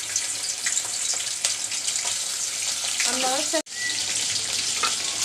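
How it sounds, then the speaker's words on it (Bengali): Shutki, Bengali dried fish, frying in hot oil in a pan, giving a loud, continuous close-up sizzle and crackle with a brief break near the end, while someone talks faintly underneath. "প্রথমে আমি তেলের মধ্যে কিন্তু শুটকিটা দিয়ে দিব আমি তেলে সবসময় শুটকি ভেজে নিই"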